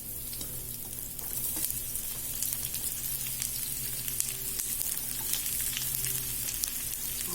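Thickly cut onions fry in a pan for an onion chutney, giving a continuous dense crackling sizzle throughout with faint spattering pops and no talking.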